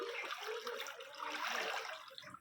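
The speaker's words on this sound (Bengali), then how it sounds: "বসে আছে সে জল ঘেঁটেই যাচ্ছে" A child splashes and stirs around in knee-deep floodwater surrounding a flooded home, a continuous close watery sloshing and churning with no speech.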